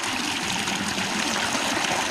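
Irrigation water flowing in a rural farm channel, a continuous close rushing and trickling stream that holds steady and loud throughout, with no voices.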